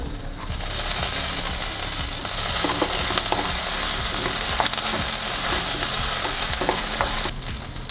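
Onions and curry leaves sauté in a pan for coriander seed chutney, giving a loud, dense, continuous sizzle with frequent stirring scrapes and clicks up close, with no voices.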